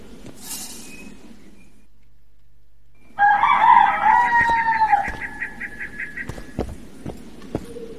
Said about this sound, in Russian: Петух уже пропел